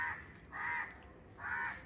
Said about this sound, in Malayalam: എന്നെ തിരക്കി കുറേ കാക്കകൾ വന്നിട്ടുണ്ട്.